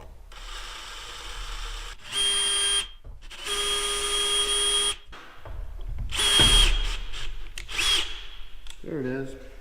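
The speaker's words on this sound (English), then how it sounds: "This drill bit's about as sharp as a pebble, you know. It doesn't cut at all." Power drill with a dull bit working on an Olympic 302 chainsaw carburetor, whining in several separate bursts with pauses between, close and fairly loud, with someone talking over parts of it.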